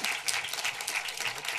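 A studio audience applauds steadily, welcoming a German film director to a film talk on stage; dense, even clapping fills the short stretch at moderate loudness with no voices.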